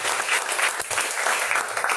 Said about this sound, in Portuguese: E aplauda Jesus mais uma vez, porque só ele merece